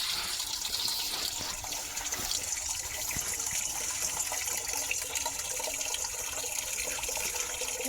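Water pours and gushes steadily while sesame seeds are being washed, a continuous rushing splash that runs without a break from start to finish.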